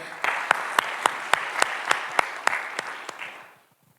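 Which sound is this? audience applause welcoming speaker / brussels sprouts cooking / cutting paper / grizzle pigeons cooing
audience applause welcoming speaker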